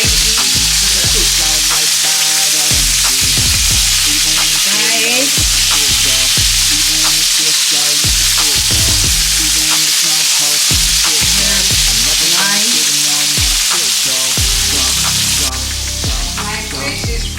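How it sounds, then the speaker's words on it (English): Fish for a Ghanaian red fish gravy frying in a pan after turning, a loud continuous sizzle and crackle with bursts of spitting oil and occasional utensil knocks, close up and steady throughout. "So right now I'm turning my fish for the other side to cook."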